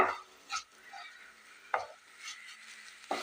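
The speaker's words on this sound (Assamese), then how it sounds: "গেছৰ ফ্লেমটো মিডিয়ামত ৰখাই এইখিনি ভাজি ল'ব।" Pitha being fried and stirred in a pan over a medium gas flame: three or four sharp spatula scrapes and knocks come close together, with a faint sizzle between them and no talking.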